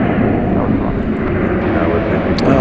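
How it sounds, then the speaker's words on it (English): An American Eagle E-Jet roars at night at Dallas Fort Worth International Airport, a loud steady broadband engine rumble filling the whole stretch with no break. "American Eagle E-Jet."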